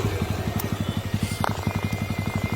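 A motorcycle on a dirt road idles or putters nearby with a steady, rapid rhythmic engine thump.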